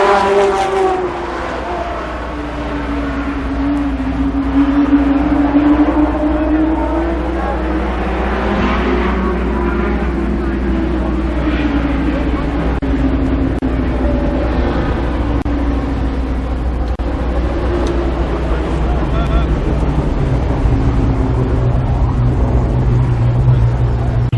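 Race cars lapping at Columbus Motor Speedway, a steady droning engine roar with rising and falling pitch as cars sweep past, loud and continuous throughout with no speech.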